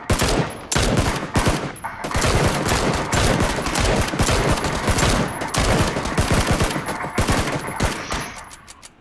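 Sustained automatic gunfire in the video game PUBG, loud and dense with rapid overlapping bursts of shots that continue almost without pause for several seconds before thinning out.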